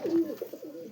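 A pigeon from a pair, one with red markings and one with green, gives a single soft, throaty coo close by, heard alone.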